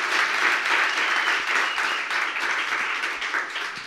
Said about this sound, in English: can we give another round of applause for Dana?